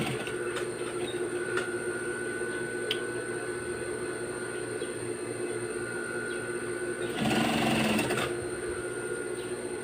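Sewing machine stitching a repair on worn, stiff denim trousers, a steady mechanical hum with faint tapping and a louder burst of stitching near the end, heard alone.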